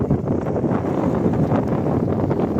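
Strong wind at an outdoor iftar gathering with friends, a loud, continuous rushing roar buffeting the microphone with no pauses and no voices.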